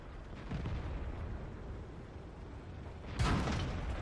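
A tank cannon fires an AP shell in World of Tanks, heard as one sudden, sharp boom late in the clip over a steady low rumble of battle noise.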